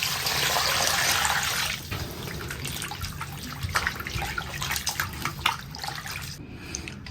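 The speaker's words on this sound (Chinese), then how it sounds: "鸡头先给它洗一下。" Raw chicken heads rinsed under a running tap, a steady rush of water that swells loud at first, then continues with splashing and handling noises as the heads are washed, with no talking.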